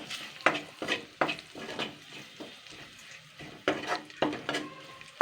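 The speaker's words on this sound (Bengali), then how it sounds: "রসুনটাও কিন্তু হালকা নাড়াচাড়া করে নিতে হবে" Garlic and chili fry in a pan while being stirred, a close crackling sizzle with rhythmic scraping strokes and light clatter of the utensil.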